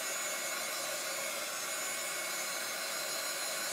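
Hair dryer blowing on chalk paste used in a craft stencil project, a steady, loud, unbroken whooshing roar that holds even throughout with no talk.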